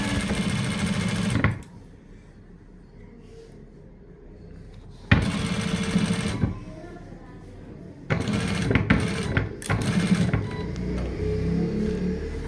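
A sewing machine stitches cloth for a placket and cuff, running in loud bursts separated by quieter pauses, with the motor revving up and stopping several times at close range.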